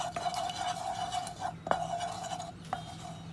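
Chicken is mixed with a little ginger garlic paste in a bowl for butter chicken, heard as soft, quiet stirring with a few sharp clinks of a utensil against the vessel over a low steady hum.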